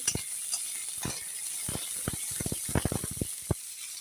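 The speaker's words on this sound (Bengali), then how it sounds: "এখন টমেটো আর শুকনো লঙ্কা ভাজা হয়ে গেছে" Tomatoes and dry red chillies frying in hot oil in a pan: a steady high sizzle, with a run of quick scraping, clicking stirs through the middle and a few louder knocks near the end.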